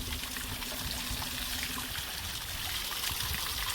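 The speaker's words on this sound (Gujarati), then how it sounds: "આ કાયદેસર પાણી નીકળે છે" Natural spring water trickles steadily out of the ground in a Gir forest, a continuous close babble and dribble with no pauses.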